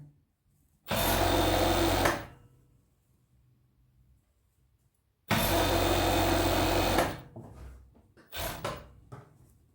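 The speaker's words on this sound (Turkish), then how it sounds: "Çekimi evde yaptığım için arkadaşlar overlock'umun ayarı gayet düşük ses yapmasın komşularımızı rahatsız etmeyelim diye." Overlock serger sewing machine running on a low setting, stitching a raglan sleeve at home: two loud, steady whirring runs of about one to two seconds each, then a shorter stuttering burst, separated by quiet pauses.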